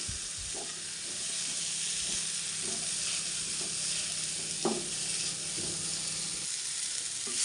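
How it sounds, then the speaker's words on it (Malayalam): Chopped tomatoes fry for a cauliflower masala in a pan, giving a steady close sizzle with the soft scrapes and taps of stirring now and then and no voices. "ഈ തക്കാളി ഇതിൽ കിടന്നിട്ട് നന്നായിട്ട് തന്നെ ഒന്ന് കുക്കായിട്ട് വരണം"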